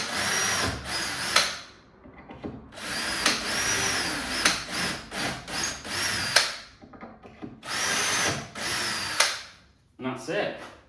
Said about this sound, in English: Quickly just drill these through now